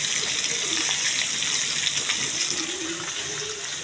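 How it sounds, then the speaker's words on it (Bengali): Tilapia fish frying in oil in a pan: a loud, continuous sizzling hiss, close and steady throughout, with faint voices in the background. "তেলাপি মাছ ভাজি করতেছি"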